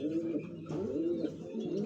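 A racing pigeon with a cold in one eye coos in low, rolling repeated calls, close and clear with no talking.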